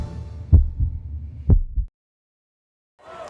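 A heartbeat sound effect from a hospital cardiovascular advertisement gives several deep, evenly spaced thumps, loud and close, then cuts to silence before a brief soft sound at the end.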